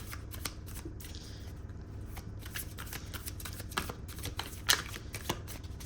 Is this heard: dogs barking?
no